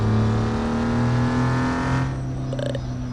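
A new Chevy work truck's engine running while driving, a loud steady drone with harmonic tones that shift and ease off near the end, heard close from inside the vehicle with no talking.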